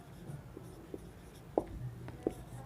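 Pen strokes on paper while working a trigonometry problem in a Bengali school math lesson: faint, scattered scratches and taps, a few sharper ticks, with no talk over them.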